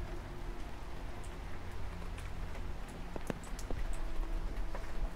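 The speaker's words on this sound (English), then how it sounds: "Rain fiercely patters against the window as if it never intended to stop falling." Steady rain fiercely pattering against a window in a survival horror game, a continuous dense hiss with scattered sharp drop ticks, fairly close and alone.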